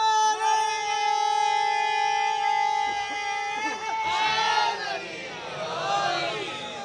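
At a majlis in Niko Chak, one voice holds a long sustained call before a crowd bursts in, loudly shouting religious slogans together in overlapping, rising waves.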